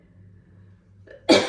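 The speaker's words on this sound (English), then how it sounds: "excuse me, coughing" A single sharp cough bursts out close to the microphone after a quiet, low hum, loud and abrupt at the very end.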